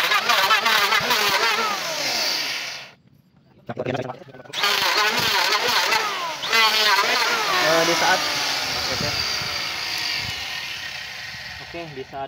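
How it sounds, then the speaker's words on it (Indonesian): An electric planer shaves a wooden plank for a boat's bow, its motor whining loudly and steadily with a brief drop to near silence partway through. Someone talks over the noise. "Untuk papannya coba kita serut ya menggunakan mesin serut nih cas ya."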